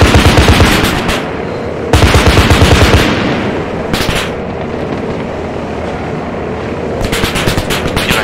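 Heavy automatic gunfire in a combat close air support game mission: loud, rapid bursts of machine-gun rounds rattle in long strings, broken by short pauses and a lingering low rumble between volleys.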